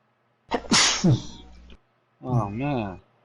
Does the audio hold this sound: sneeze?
yes